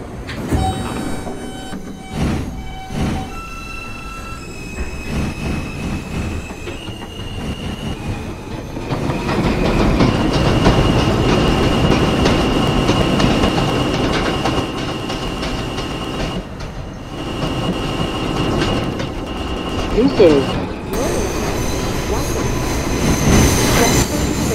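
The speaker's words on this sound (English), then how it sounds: "The Brooklyn-bound M local train." A Roblox game's M local subway train runs along the Myrtle Avenue line, its steady rumbling ride carrying the sustained whine of traction motors and rising squeals of wheels on the rails, loud and continuous throughout.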